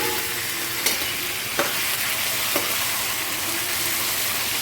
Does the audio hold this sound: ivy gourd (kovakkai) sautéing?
yes